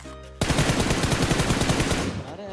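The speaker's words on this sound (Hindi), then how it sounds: "आसमान में कहाँ गोली चला रहा है भाई?" A rapid burst of automatic gunfire in BGMI on the Miramar map rattles loudly for about two seconds after a brief quiet lead-in.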